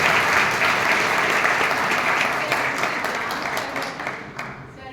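An audience at a school gathering claps loudly for the students, a thick, continuous wash of hands that starts strong and gradually tapers off over several seconds.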